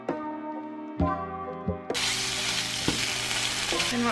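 Ham frying in a pan, a loud, steady sizzle that rushes in after a few seconds of quieter clinking and knocks and keeps going to the end.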